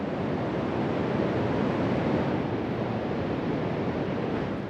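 Surf at a beach rolls in as a steady, unbroken wash of white noise, even and fairly loud throughout with a slight wind-like rush, no distinct crashes and no voices.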